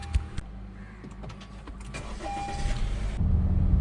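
A 4th generation Honda City VX car starts up and pulls away, with a steady low engine rumble that builds and grows louder toward the end, alongside a few brief clicks and mechanical noises early on.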